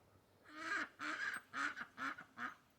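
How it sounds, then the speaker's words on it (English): A duck quacks five times in an even series of close, nasal calls, with no talking. "What are you doing, duck?"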